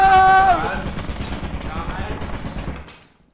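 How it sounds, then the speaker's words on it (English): A burst of rapid gunfire in the video game Lethal Company opens the clip, followed by a fading clatter of further shots that trails off into quiet. "Follow the gunshots."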